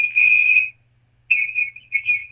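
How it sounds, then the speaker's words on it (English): A steady high whistle sounds twice, a sustained tone that breaks off, then returns wavering over a faint low hum. "Yeah, your background whistling."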